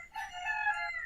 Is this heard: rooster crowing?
yes